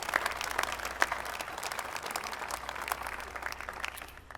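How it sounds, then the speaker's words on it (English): Lawmakers and guests in a packed chamber applaud during the 2020 Mississippi State of the State Address, a steady, fairly distant wash of clapping without breaks. "you can go ahead and applause for all of those people that work for you"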